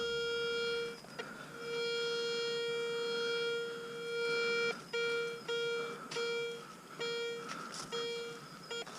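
A metal detector signals while someone hunts for finds outdoors. It gives a steady, high-pitched electronic tone with harmonics, broken by short gaps and clicks, fairly quiet and with no voices.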